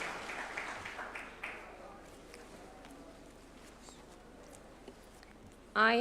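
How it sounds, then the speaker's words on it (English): Applause fills a judges' swearing-in ceremony at State House in Nairobi, a steady crowd clapping that starts strong and slowly thins out, with a sudden louder burst of sound near the end. "A round of applause, please, as she approaches the swearing-in arena."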